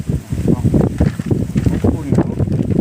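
Strong outdoor wind buffets the microphone in a continuous low rumble with gusty surges, while someone talks loudly throughout.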